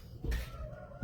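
Chickens in a coop give a brief, soft cluck at close range, a single short call within about a second.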